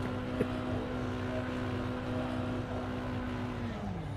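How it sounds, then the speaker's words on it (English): Mini stock race cars roar around Southern National Motorsports Park in the iRacing sim, a steady droning engine note holding pitch and then dropping at the end, with faint commentary underneath. "Listen to that engine roar"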